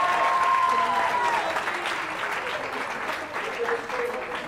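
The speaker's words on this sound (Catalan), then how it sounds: "Aplaudim, no?" Studio audience applauding during a Catalan TV spelling quiz show, a steady wash of clapping lasting several seconds, fairly close, with a host's voice and a brief tone layered over it.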